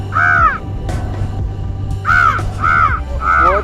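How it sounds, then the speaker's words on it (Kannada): A crow caws loudly and close at Ullal beach, giving four harsh calls: one alone, then three in quick succession after a pause. "ಒಂದು ಕಾಗೆ ರಂಬ್ಳ ಕೂಗ್ತಿರೋದು ನೋಡಿ"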